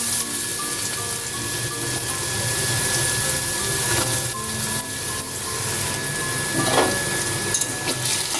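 Potatoes fry in hot oil tempered with dried red chilli and nigella seeds for a water spinach chorchori. A steady, dense sizzle hisses continuously at close range, with no voices.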